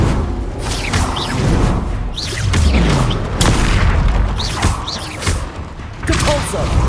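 Spell combat in Hogwarts Legacy on Xbox Series X, with the Expelliarmus disarming spell among repeated booming impacts, whooshes and thuds, loud and dense, while a character shouts incantations.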